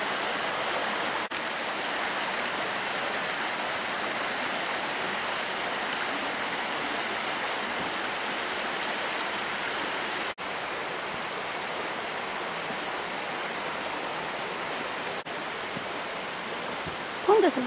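A mountain waterfall pours from the rocks near its spring source, a loud constant roaring wash that holds steady throughout with faint clicks.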